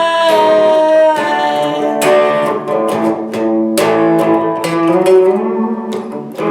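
A guitar picks out a low, bass-line riff with sliding notes, steady plucked attacks repeating over several seconds, played alone without talking.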